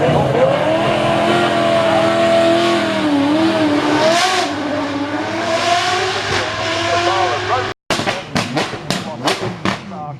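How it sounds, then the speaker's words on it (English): Brabham supercar with a big rear-mounted V8 at the Goodwood Festival of Speed, a loud engine note climbing and surging with revs up close, then a brief cut followed by sharp bursts of revving and crackle. "Should sound like, ladies and gentlemen, big V8 in the back"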